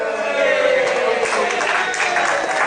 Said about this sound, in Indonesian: tepuk tangan buat Anda ya